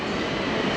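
A train rumbles past a station platform on a very windy day, a steady close roar of rolling wheels and carriage noise that fills the short moment without any speech.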